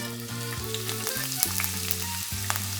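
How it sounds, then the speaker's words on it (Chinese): Chopped onions sizzling in plenty of hot oil in a heated pan, a steady crackling fry under bright tonal background music, with no talking. "把切好的洋葱放进去"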